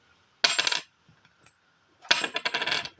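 A cupronickel coin is dropped twice onto a hard surface. Each drop gives a short cluster of clinks and bounces with a dull, low ring, separated by a quiet pause.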